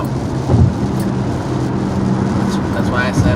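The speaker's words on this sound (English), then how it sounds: "it's crazy raining here in Austin" Heavy rain during a road trip in Austin, a constant dense hiss mixed with low vehicle rumble inside a moving car, steady and fairly loud, with people talking over it.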